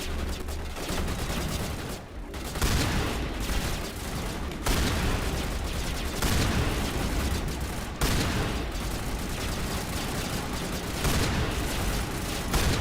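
Shotgun blasts and other gunfire in Mass Effect: Legendary Edition come in dense, near-continuous volleys, with loud sharp shots at regular intervals over the game's battle noise.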